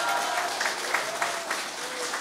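Concert audience applause at a Women's Day show, a moderate, fairly soft continuous patter of many hands with a few louder accents.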